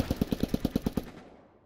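Machine gun fire in the World War II shooter Post Scriptum, with weapons such as the Bren, Browning and MG 42: a rapid, even burst of about nine loud, close shots over roughly a second, followed by a fading echo tail.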